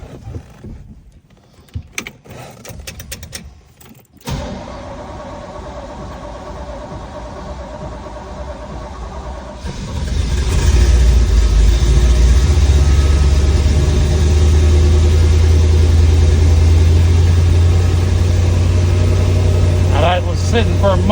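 A restored 1963 Chevrolet Corvette Fuelie split-window coupe with its fuel-injected V8 cranks and fires after a month of sitting, settling into a loud, steady, close idle, with a person speaking and some clicks before the start.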